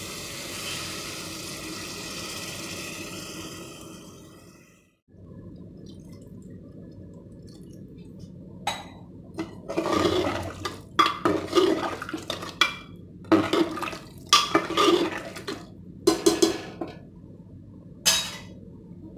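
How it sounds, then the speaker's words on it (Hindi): Water is poured into a pan of roasted arbi (taro root) vegetables. A steady trickling pour comes first, then a pause and a series of clattering knocks and clinks from the pan and utensils. "बस अब इसमें पानी डालने का वक्त आ चुका है, तो हम इसमें अंदाज से पानी ऐड करेंगे।"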